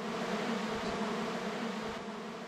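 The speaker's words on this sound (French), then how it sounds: "Ah, et là c'est des abeilles. Des abeilles dedans." Bees buzzing inside a hive as it is carried to a new spot along a rural track in Madagascar, a steady dense hum holding evenly throughout with no voices.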